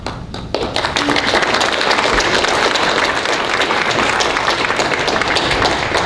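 An audience at an international speech contest applauds a contestant, with dense, steady clapping that fills the whole stretch at close range and never lets up.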